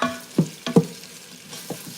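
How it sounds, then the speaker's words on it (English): Onions and garlic saute in a pan, a quiet sizzle broken by a few distinct scraping stirs of a utensil against the pan, each brief and fairly close. "So onions and garlic are going to go down here. We're going to saute them."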